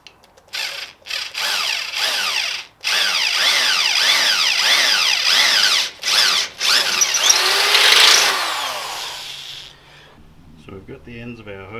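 A power drill bores a hole in a cross brace while fitting an external transmission cooler to a turbo Ford Territory Ghia, whining loudly and steadily for about eight seconds with brief pauses, then stopping as quieter handling noises follow.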